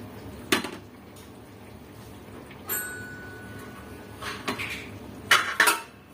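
A metal lid is set on a pot of bagara rice left simmering on low heat, giving a few quiet, scattered metallic clinks and clatters against a soft kitchen background.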